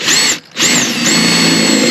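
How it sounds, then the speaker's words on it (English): A power drill bores a hole through a plastic toilet float for a homemade goat stock tank float, whining loud and steady with a brief pause before spinning up again. "It's a lot easier to drill your hole through these afterwards."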